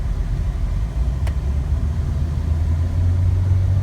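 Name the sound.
Jeep engine on a test drive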